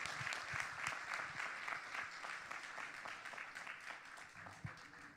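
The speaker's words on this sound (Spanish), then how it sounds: "Y entonces voy a pedir a todos ustedes, compañeros, un gran aplauso para Manolo Urriza." An audience at an anniversary gathering of an association applauds. The clapping is dense and sustained, fairly faint and distant, and fades slightly over a few seconds.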